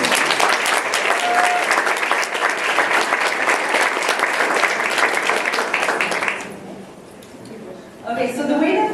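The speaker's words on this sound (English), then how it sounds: "Can we have a round of applause?" An audience at a conference gives dense, sustained applause for about six seconds, loud and close, then it fades out and a voice begins speaking.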